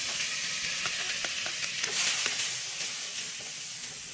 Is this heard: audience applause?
no